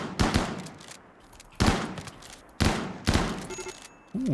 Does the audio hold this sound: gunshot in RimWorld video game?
yes